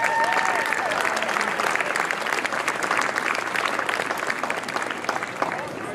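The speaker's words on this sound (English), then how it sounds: "I think that deserves a round of applause." An audience at a hall of fame induction ceremony in a hall gives sustained, dense applause, a steady wash of clapping that carries on without a break for several seconds.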